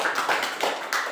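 A short burst of audience applause in a university classroom, several quick claps close together over about a second, with no talk.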